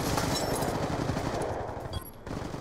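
Rapid automatic gunfire in the video game Black Ops II rattles close and dense in sustained bursts, with a brief pause near the end before firing resumes.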